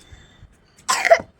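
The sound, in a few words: child coughing after running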